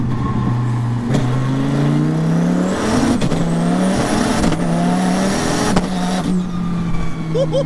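A 2000-horsepower twin-turbo sequential 8.4-liter V10 Dodge Viper accelerating hard, a loud close engine roar rising through gears with sharp shift breaks and turbo whine; brief voices are heard under it.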